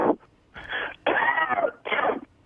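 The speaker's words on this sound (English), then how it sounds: "What is this coughing thing?" Harsh, raspy coughing bursts in three or four rough fits over a couple of seconds, close and fairly loud, from a man calling into a radio talk show.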